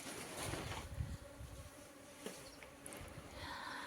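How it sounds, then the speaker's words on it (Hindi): Honeybees buzzing while being put into a box on a mountain hillside, a faint, steady swarm hum over several seconds with a few soft knocks and no voices. "इस डिब्बे में डाले हमने आज मधुमक्खी।"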